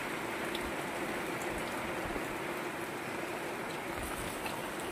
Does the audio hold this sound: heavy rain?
yes